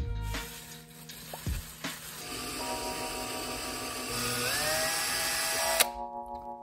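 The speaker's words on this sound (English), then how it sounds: "we got the drill." A small electric drill whines steadily at close range, drilling a die for a necklace, its pitch shifting as it runs, then cuts off abruptly near the end.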